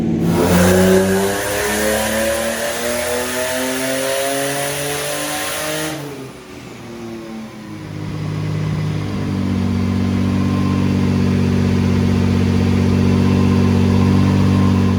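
A turbocharged BMW E36 with an M52B25 straight-six runs on a dyno at about 11 psi of boost. It revs up loudly with a climbing pitch, drops off briefly, then holds a steady, heavy drone, close and alone.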